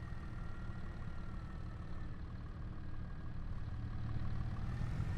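A tractor engine in a logging video game, a low steady rumbling drone that holds an even pitch and swells slightly louder toward the end, with no talk.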